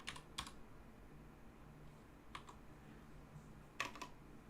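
Keys clatter on a computer keyboard in short quick bursts, with a few clustered taps near the start, one cluster mid-clip and another near the end, each close and crisp over a quiet room hum.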